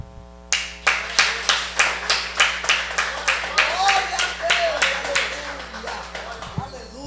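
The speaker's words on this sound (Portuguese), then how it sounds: "Mas essas palmas aí não chegam nem no teto" Church congregation clapping in unison, sharp rhythmic claps, close and loud, that start together and gradually blur into a looser patter, with a voice speaking over them.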